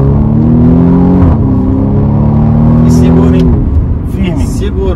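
A 2021 BMW M135i accelerates hard from inside the cabin, its engine note climbing loudly, dipping at a gear shift and rising again, with people talking over it.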